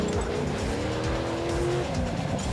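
An upgraded stunt car roars at full speed in a racing video game, its engine drone steady and loud throughout with tire squeal layered over it.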